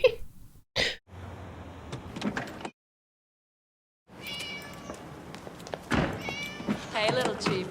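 Cats meowing loudly at someone coming home, with scattered yowls among door and household noises, a silent gap midway, and people talking over parts of it.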